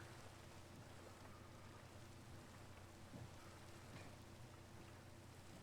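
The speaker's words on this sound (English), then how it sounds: "Rain." Steady rain falls continuously in Minecraft, a soft even hiss of rain on surfaces with faint rumbles of distant thunder, heard alone and fairly quiet throughout.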